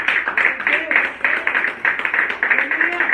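Congregation at an evening prayer service clapping, a steady rhythmic burst of many hands with voices faintly under it.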